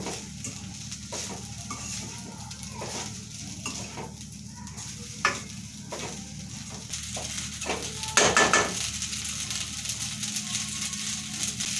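Pasta being stirred in a pan with salt and chili powder, prepared desi style without sauces: a continuous sizzle under repeated scraping and clinking strokes of a spoon, with one louder burst of clatter partway through.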